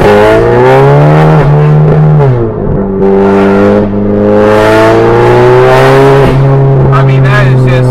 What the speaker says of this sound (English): this is just making me giggle listening to these downshifts right now